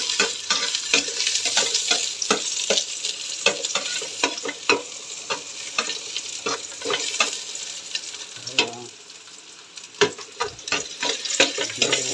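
Garlic sautés in a pan with a steady sizzle, broken by frequent sharp scrapes and clicks of a spoon stirring. The sound is close and moderately loud, briefly softening near the end, with no talking.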